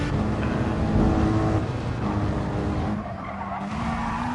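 A race car brakes hard and skids at Le Mans, tyres squealing loudly against a steady engine roar throughout, the noise dipping briefly near the end.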